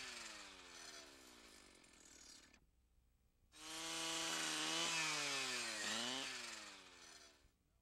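A brush saw cuts into a small tree during pre-commercial thinning, a close, high-pitched two-stroke engine whine in two bursts separated by a short pause, rising and bending in pitch as the blade bites.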